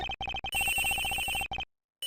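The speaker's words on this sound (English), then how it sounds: "The ringing is coming from somewhere around here." A telephone rings in the Ace Attorney Investigations video game, with rapid electronic trilling bursts repeating in a clear close pattern, then a short silence before the ringing resumes.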